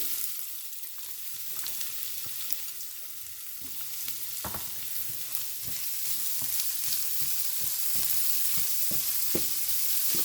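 Chopped onions sizzle in hot oil with ginger and garlic, a steady frying hiss that builds as stirring adds scraping taps throughout, close and alone with no talk.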